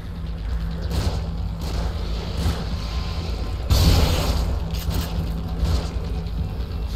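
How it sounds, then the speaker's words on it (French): A grenade goes off in the video game The Evil Within, a sudden broad blast midway through over a continuous loud mechanical and ambient game rumble, followed by smaller thuds. "Grenade."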